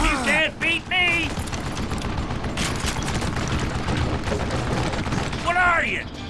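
Gunfight in the Call of Juarez: Gunslinger video game, a dense, continuous crackle of shots and rumbling blasts under intermittent shouted voices, loud and busy throughout.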